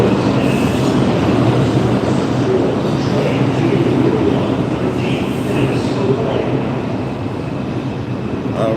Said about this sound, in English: I'll just come and get on the 4 or 5 train here